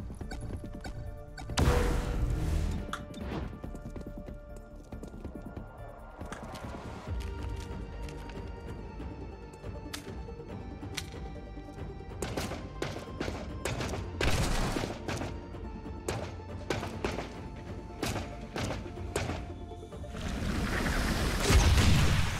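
A grenade blast in the game XCOM: Chimera Squad booms as a short, heavy burst amid busy battle effects and a steady music bed, with more sharp impacts following.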